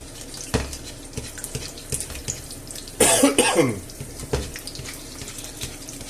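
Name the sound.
person clearing their throat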